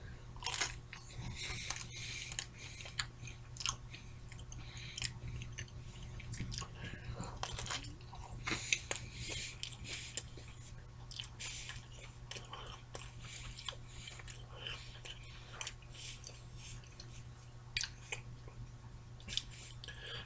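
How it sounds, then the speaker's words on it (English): Someone bites into a thick-crusted slice of combination pizza and chews it close to the mic, with soft wet mastication and occasional crunches over a low steady hum, no talking. "Alright, let's take a bite."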